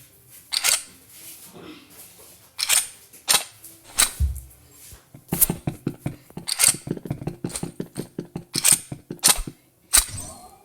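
An AUG assault rifle's inspect animation in a video game plays as a series of sharp metallic clicks and clacks, some in quick rattling runs, close and crisp with short pauses between.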